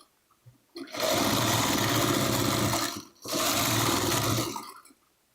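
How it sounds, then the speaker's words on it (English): A sewing machine stitches pieces of fabric together for a traditional quilt block, running in two loud, steady bursts close up with a brief pause between them, with no voices over it. "just start sewing fabric together"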